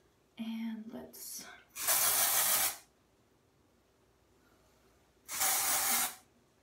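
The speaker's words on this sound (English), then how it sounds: "we're gonna put some dry shampoo. I'm just using the Batiste dry shampoo." Batiste dry shampoo sprayed onto hair, two close hissing aerosol bursts about a second each, separated by quiet, with brief soft sounds before the first.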